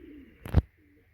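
A short, soft coo from a domestic pigeon, a single low throaty call rising and fading in under a second, close by against a quiet background.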